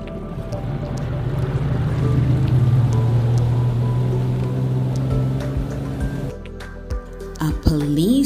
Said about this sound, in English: This is a jet ski.